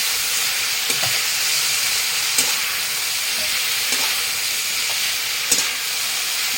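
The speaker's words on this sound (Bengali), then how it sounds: "একটু হলুদ দিয়ে দেবো একটু লবণ দিয়ে দেবো আর এবার একটু নাড়িয়ে দেবো" Spices with turmeric and salt sizzle and fry in a hot pan as they are stirred, a steady close hiss with a few brief scraping clicks from the spoon and no talking.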